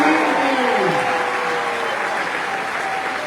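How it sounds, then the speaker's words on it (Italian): A crowd at a gala in Padova applauds runners who set a record in torrential rain, a dense, steady wash of clapping that holds at full strength from start to finish. "E io direi che possiamo fissare questo applauso"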